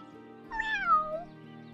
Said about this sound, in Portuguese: Ei, gatinho, o que você tá fazendo aqui?